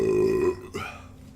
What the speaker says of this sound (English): I know that's what you come here for. Hearing me belch.